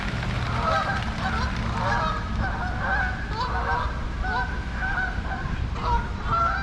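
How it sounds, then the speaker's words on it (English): A flock of geese honks continuously and raucously at Falls Park on the Reedy River, Greenville, SC, many overlapping calls close by over a steady low rumble of background noise. "Hear those geese going nuts."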